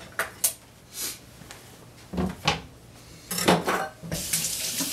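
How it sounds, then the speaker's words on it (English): A bell pepper is rinsed in a kitchen sink under a running tap, bursts of splashing water come and go irregularly, with light knocks and handling noises between them, close and fairly loud. "Give it a good rinse."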